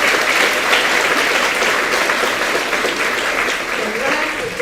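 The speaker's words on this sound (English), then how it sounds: "Let's give them a round of applause" A loud, sustained round of applause from a school audience at an honor roll event, many hands clapping in a dense, even wash that holds steady and eases only slightly toward the end.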